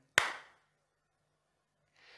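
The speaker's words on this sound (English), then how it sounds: "and clap again." A single sharp hand clap, close and crisp with a short decaying tail, then near silence before a faint hiss at the very end.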